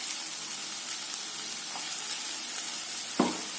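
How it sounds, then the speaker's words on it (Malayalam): Garlic ginger paste frying in oil for chicken curry, a steady close hissing sizzle throughout, with one brief scrape near the end. "വെളുത്തുള്ളി ഇഞ്ചിയും പേസ്റ്റ് ചേർത്ത് കൊടുക്കാം."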